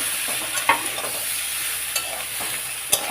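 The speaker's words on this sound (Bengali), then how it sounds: "একটু কষে নিই।" Vegetables sauté in a pan with a masala, a constant hiss of frying broken by a few sharp scrapes and clinks of a spatula stirring at irregular intervals.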